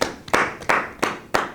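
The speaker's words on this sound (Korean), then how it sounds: "팀장님에게도 뜨거운 박수" Four sharp claps ring out at a steady, evenly spaced rhythm, fairly close and loud with no talk over them, closing an office meeting held as a game.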